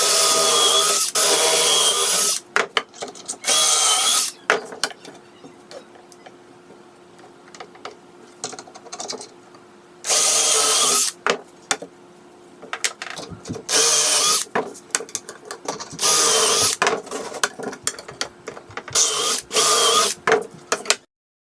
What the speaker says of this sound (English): I needed to create pocket holes on each end of the longer 2x4s